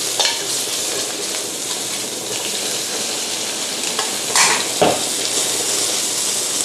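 Thai fried noodles with bacon and egg are stir-fried in a hot pan with a loud, constant sizzle, broken by a few sharp metallic scrapes and clinks of the spatula against the pan.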